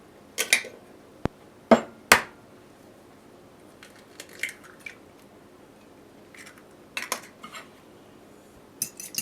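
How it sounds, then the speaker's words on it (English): Two eggs cracked against and into a large mixing bowl, giving a few sharp, close taps and cracks with soft clicks and small wet sounds between, in an otherwise quiet kitchen. "Break 2 eggs into a large mixing bowl."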